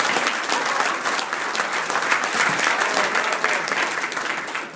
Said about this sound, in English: Let's give the Fremont House and the staff a round of applause